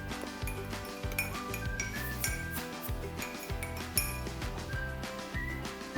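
Spoon rapidly stirring unicorn funfetti mug cake batter in a ceramic mug, quick rhythmic clinks and scrapes repeating about once a second over quiet background music.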